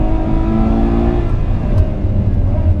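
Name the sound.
sports car gear shifts while accelerating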